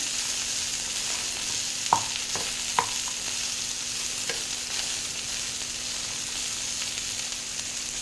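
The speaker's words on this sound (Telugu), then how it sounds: "పల్లీలు కొంచెం వేగాలి." Peanuts frying in a pan for a ridge gourd fry, a steady close sizzle with a few sharp clicks and stirring scrapes, no voices.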